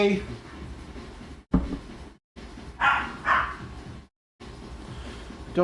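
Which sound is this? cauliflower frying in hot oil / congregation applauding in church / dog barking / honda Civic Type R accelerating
dog barking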